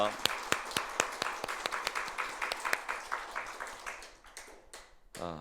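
Congregation clapping in rhythm during a Sunday worship service at a Korean church, steady sharp claps in a reverberant room that thin out and stop near the end.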